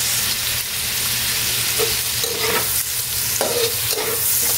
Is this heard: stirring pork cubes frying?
yes